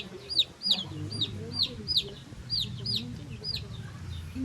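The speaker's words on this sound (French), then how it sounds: "après cette petite pause au milieu des oies et des poules et des canards" Chickens cluck in a repeated run of short, bright calls at a farmyard stop among geese and ducks in Tayrona park, Colombia, with soft low murmuring and movement underneath.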